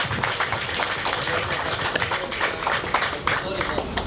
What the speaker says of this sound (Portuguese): Forte aplauso para a Ronella,